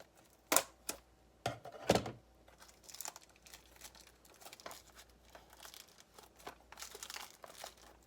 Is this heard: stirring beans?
no